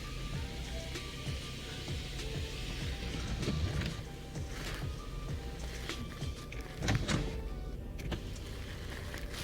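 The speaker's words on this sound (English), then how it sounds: "you just have to pull your sunroof back because the sun is really scorchy" Range Rover Velar sunroof slides back with a faint electric motor whir inside the cabin, accompanied by soft clicks and a few light knocks, fairly quiet throughout.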